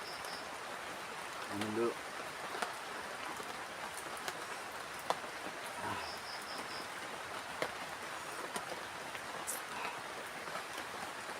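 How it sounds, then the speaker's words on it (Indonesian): Steady rain falls on a forest campsite after a heavy downpour, a constant soft hiss with scattered drops, while a voice speaks briefly at a low level. "Tapi ini hujannya masih turun."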